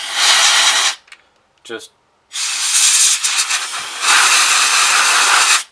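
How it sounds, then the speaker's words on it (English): A can of compressed air blows dust off a red dot firearm sight in loud, close hissing bursts. A pause in the middle holds a brief spoken word, and then the spraying resumes and holds steady to the end. "So I'm just going to take my little compressed air, and I'm not going to blow it real hard."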